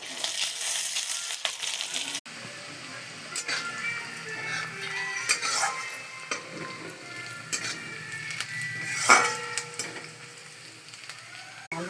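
Chopped onion frying in oil with cumin seeds for a Bengali fish curry, a steady crackling sizzle with scattered pops and light clinks, close and moderately loud, with no voices.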